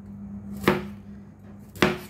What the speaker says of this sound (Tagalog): Ayusan na natin yung kanyang ulo at hiwa-hiwain ng maliliit